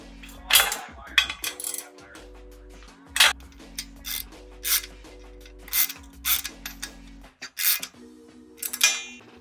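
A ratchet tightens roof rack bolts on a Ford Transit van, giving repeated bursts of sharp clicking strokes in an irregular rhythm, close and clear, with a low mechanical hum underneath.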